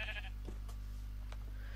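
A sheep in the Minecraft video game gives a short bleat early on, quiet over a steady low hum, followed by a few faint game clicks.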